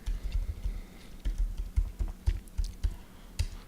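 A computer keyboard being typed on at a steady, brisk pace, with close, soft keystroke taps in a quiet room and no voices.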